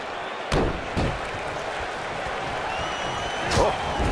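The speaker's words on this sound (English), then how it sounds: "Oh, bell clap." Loud metallic ring-post bell clap from a WWE 2K wrestling video game, two sharp impacts close together near the start and another heavy strike a few seconds later over steady arena crowd noise.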